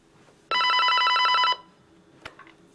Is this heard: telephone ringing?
yes